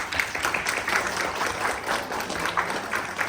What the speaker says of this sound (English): Let us once again show our appreciation for Neerja Masih with a resounding round of applause